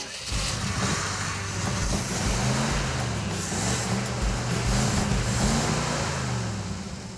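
A car engine fitted with a new high-performance ignition coil idles at raised revs, giving a steady, loud mechanical drone with a low pulsing throb that runs without a break throughout.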